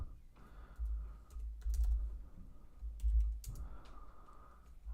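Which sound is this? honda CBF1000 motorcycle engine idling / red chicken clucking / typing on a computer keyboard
typing on a computer keyboard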